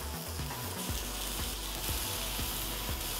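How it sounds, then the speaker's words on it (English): Lamb skewers sizzle steadily on a grill, a continuous close frying hiss with occasional soft pops and small knocks throughout. "So you let the lamb cook for about 1 to 2 minutes on each side."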